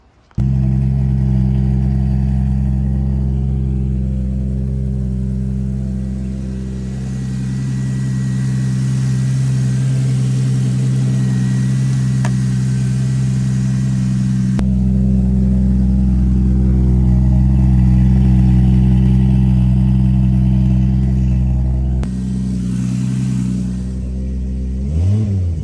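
A boosted Lexus IS300 with a 3-inch welded exhaust idles with a deep, steady rumble, swells into longer revs, settles back, and ends on a sharp blip, loud and close throughout.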